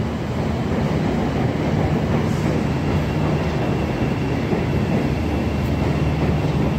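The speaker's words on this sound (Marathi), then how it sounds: "इथूनही मेट्रो चालली आहे मला" A metro train rolls past close by in downtown Chicago, a loud continuous rumble with a faint low hum and rhythmic rattling of wheels on track.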